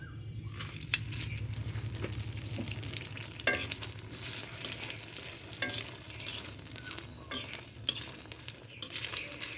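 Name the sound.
seven chillies frying in oil for fish curry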